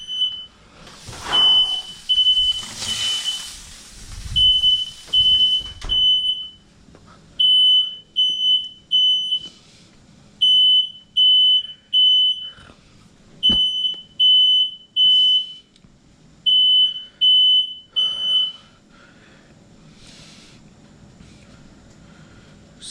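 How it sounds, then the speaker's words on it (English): A smoke alarm goes off while salmon grills on a George Foreman grill, sounding shrill high beeps in rapid repeated groups, loud and close, before falling silent. "See, the alarm turned off."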